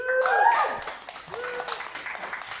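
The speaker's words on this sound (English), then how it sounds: "clap your hands." A comedy club crowd at a roast battle claps to vote for a comedian. Cheers and shouted voices ring out at first, then scattered clapping carries on more loosely.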